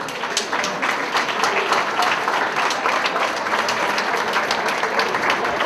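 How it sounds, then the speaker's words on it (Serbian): Guests in a restaurant at a newlyweds' ball applaud a couple opening the first dance, with steady, lively clapping and crisp individual claps throughout. "Molim vas jedan aplauz za njih."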